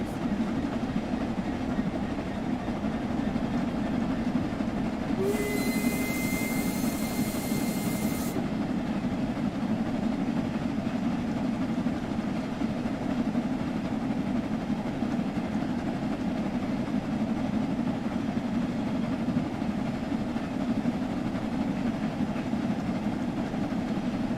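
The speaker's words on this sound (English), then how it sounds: "A German freight train, in fact, in England." A German freight train hauled by an English steam locomotive in Train Sim World 2 rumbles along steadily, a constant low rolling drone with a brief high tone partway through.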